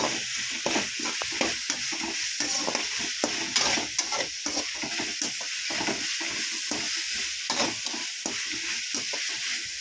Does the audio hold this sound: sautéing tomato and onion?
yes